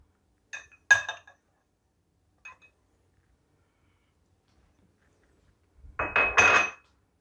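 Spoon stirring yeast and sugar in a bowl, a few clinking taps at the start, a brief scrape, then a short burst of clattering stirring after a quiet gap.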